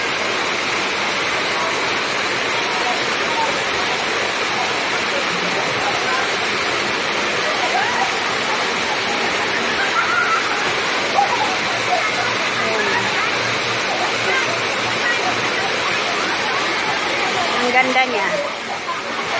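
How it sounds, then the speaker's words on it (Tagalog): Tsuen Wan falls pour down in the rain with a loud, steady, broadband roar of rushing water that fills the whole stretch without pause, while a person speaks briefly over it. "Ganda ng falls"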